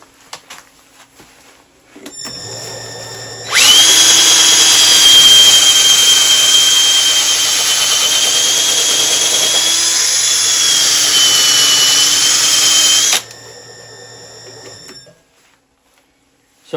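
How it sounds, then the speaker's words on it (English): A drill spins a buffing wheel embedded with wax and fine 1700-grit abrasive, rising to a loud steady whine that holds for about ten seconds and then drops back to a softer hum before stopping. "So I've got a buffing wheel attached to my drill."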